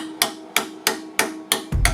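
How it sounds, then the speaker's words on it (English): A hammer taps metal plates six times at an even pace, each strike sharp and ringing briefly, close by, during a carbon GT3 interior build for a BMW Z4 EVO. "Nothing some gentle guidance with a hammer can't fix."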